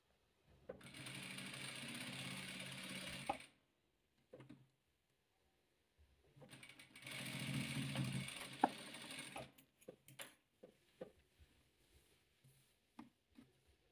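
A sewing machine stitches rows of a star-pattern patchwork quilt in two steady runs of rapid mechanical whirring, separated by a short pause, followed by scattered light clicks and ticks as the work is handled.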